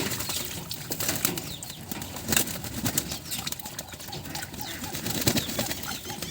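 Young pigeons bathing in water on a hot summer day flap their wings in repeated bursts of fluttering and splashing, close by, with soft cooing in the background.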